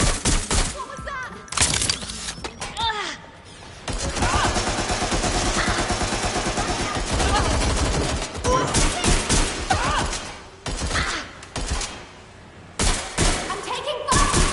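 Bursts of rapid gunfire from a Watch Dogs: Legion firefight, dense volleys near and loud across much of the stretch, with brief gaps and some voice under the shooting.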